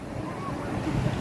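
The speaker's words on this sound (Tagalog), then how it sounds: "Ang laki na alon." Big sea waves driven by a strong northeast monsoon wind at a coastal boat-building site, a brief rumbling wash of surf and wind buffeting the microphone, fairly loud and close with no clear talk.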